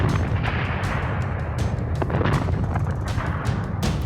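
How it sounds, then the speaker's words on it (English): A massive cave-in deep inside a copper-gold mine in Chile, heard as a continuous heavy rumble with sharp booming bursts that resemble artillery fire, sustained and loud for several seconds. "What the miners believe to be an explosion is in reality a massive cave-in."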